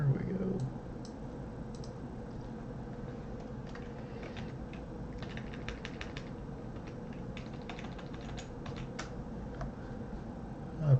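Clicks and taps on a new computer keyboard, steady and close, spread across a long stretch with no one speaking.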